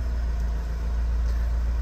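VW Transporter T5.1 140 diesel with a turbo actuator fault, engine held at raised revs: a steady, dense, droning engine roar with no breaks, close and loud throughout.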